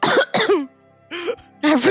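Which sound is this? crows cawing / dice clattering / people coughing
people coughing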